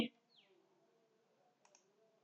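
A single sharp mouse click on a PowerPoint slide at the start, crisp and close, followed by near silence with a faint sweeping transition sound and a couple of tiny ticks later.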